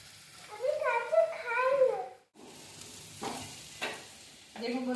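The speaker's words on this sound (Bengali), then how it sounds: "আমার আলুটা ভাজা হয়ে গেছে, এবার আমি মাছটা দিয়ে দেবো" Potatoes fry and sizzle in a pan in a home kitchen, with stirring and scraping bursts. Someone talks over part of it, while a faint steady hiss of frying runs beneath.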